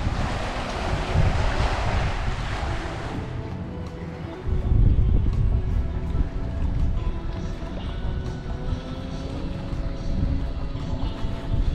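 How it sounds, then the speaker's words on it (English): Strong wind roars across the microphone at a fishing pier on Anna Maria Island, a loud, steady buffeting rush with gusts and faint tonal sounds underneath, and no talking. "this is the windiest I've ever recorded in, so I know you're gonna hear the wind today"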